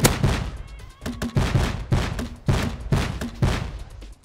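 Rapid gunfire in the survival game Rust crackles in loud, closely spaced bursts, short volleys of shots repeating roughly every half second with brief gaps between them.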